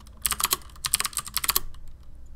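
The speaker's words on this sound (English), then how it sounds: "And I'm going to just start typing." Typing on a CM Storm QuickFire Rapid tenkeyless mechanical keyboard with MX Blue switches, recorded close from above: quick bursts of sharp, clicky keystrokes in uneven rhythm, clear and crisp with brief pauses, no talking.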